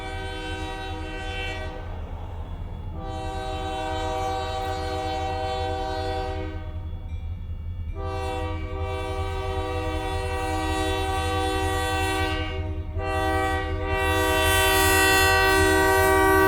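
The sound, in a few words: train passing and sounding its horn, Idabel, Oklahoma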